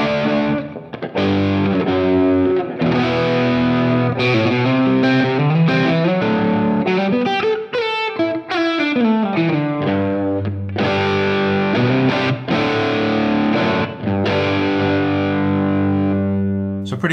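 An electric guitar plays a dirty, distorted rhythm tone through a Plexi 50-watt Marshall amp model on an FM3 modeler, with strummed chords and a sliding run midway, loud and continuous with no talking.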